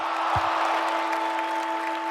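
Crowd at an Australian rules football match between Glenelg and Coburg, a steady broad roar of many voices holding at an even level throughout with a brief low thump early on.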